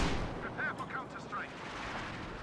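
Raketenwerfer rocket artillery fires from afar in a tank video game, a burst of dull rumbling booms with whistling streaks trailing through the mix, moderately loud.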